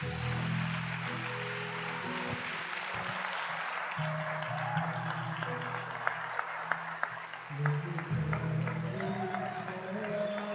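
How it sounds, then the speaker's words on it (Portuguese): A church congregation claps steadily at a Portuguese-speaking service, a dense, moderately loud round of applause with voices and music murmuring underneath. "aplauda Jesus"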